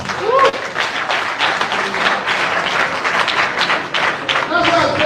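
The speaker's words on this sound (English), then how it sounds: "Can you clap to that?" An audience at a live political event in Germany clapping continuously and fairly loud for several seconds, with a voice talking over the applause.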